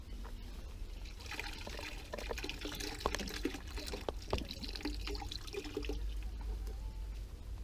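Water runs and trickles at a tank while water chestnuts are rinsed, a soft continuous splashing heard close but faint, with no talking.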